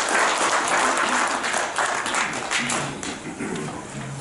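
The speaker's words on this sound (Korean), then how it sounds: "박수 쳤어요" At a public hearing for humidifier disinfectant victims, the audience applauds, a steady, fairly loud round of clapping from a sizable crowd that continues for several seconds and eases slightly near the end.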